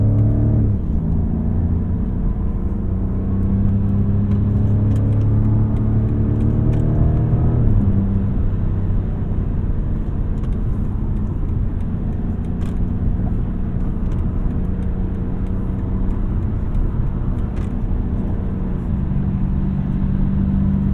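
A 2021 BMW F90 M5 accelerates hard with a loud, sustained engine roar whose pitch climbs, dips briefly at a gear change, then keeps pulling steadily.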